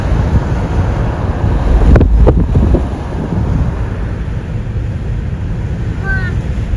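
Steady wind rushes across the microphone throughout, with a brief burst of louder buffeting near the start and no other prominent sounds, on a summer road trip through hills between Oslo and Trondheim, Norway.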